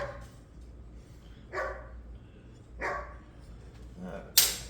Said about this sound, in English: I hear Diesel out there barking.